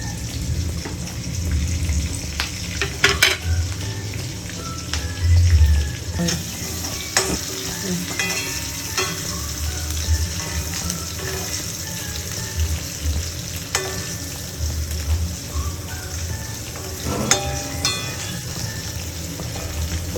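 Onions and curry leaves sizzle and fry in hot oil for a fish curry, a steady crackling hiss with occasional stirring scrapes and clinks, close and continuous with no talking.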